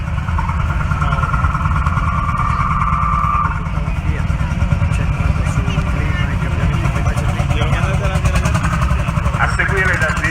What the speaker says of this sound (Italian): con un trattore Landini L25 del 1953